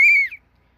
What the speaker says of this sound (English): I think I found the whistle.